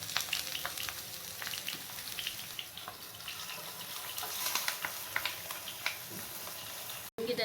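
Bangda mackerel frying on a banana leaf over a low flame gives a steady, even sizzle with soft crackles and faint stirring, heard close and without any talk.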